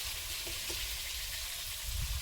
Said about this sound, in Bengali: চিংড়িটা একটু ভাজতে দিলে হবে